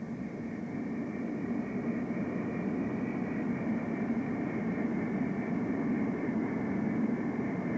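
The Avrocar, a turbine-powered hovering aircraft with a large centrally mounted turbine, gives off a steady, dense turbine roar with a constant droning whine, unbroken and loud throughout.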